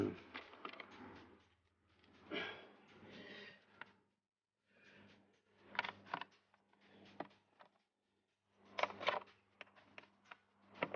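Fasteners on a cover of a Yamaha R6 motorcycle are undone, heard as faint close clicks, scrapes and creaks in short bursts separated by brief quiet gaps, no talking.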